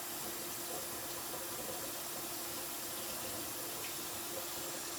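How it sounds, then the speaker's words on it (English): Water, mixed with bleach, pours steadily into a sink during rinsing: a continuous, even splashing rush at moderate level with no pauses and no talk. "pour it out, and then rinse it off again."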